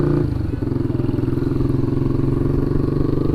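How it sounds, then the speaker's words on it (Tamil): A Yamaha R3 300cc motorcycle idling close by, its exhaust giving a loud, even, rapidly pulsing burble with a slight blip early on, no talk over it. "இப்போ exhaust note. Wow, what exhaust note."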